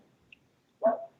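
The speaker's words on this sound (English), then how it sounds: "The dog's in the background." A single short dog bark, fairly close, after a brief quiet stretch with a faint tick.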